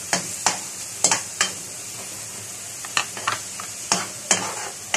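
Minced garlic sizzles in hot cooking oil in a pan, a steady close fry broken by sharp clinks and scrapes of a utensil stirring at irregular intervals.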